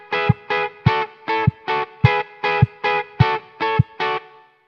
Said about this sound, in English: So that's the other guitar part that I wanted to show you.